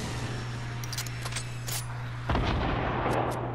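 A rocket launcher fires in Fortnite Battle Royale, a single heavy boom landing sharply partway through over a steady low background hum, loud and close.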